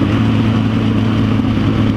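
A motorcycle engine runs close by, a steady, rumbling mechanical drone with little change in pitch over two seconds.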